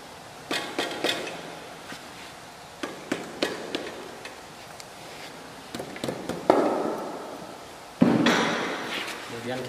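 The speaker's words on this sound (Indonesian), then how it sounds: "Kita gunakan palu karet." A rubber mallet knocks a Daihatsu engine's cylinder head loose during a technician training session, with scattered sharp taps and thuds of varying strength, some louder near the end, while someone talks between blows.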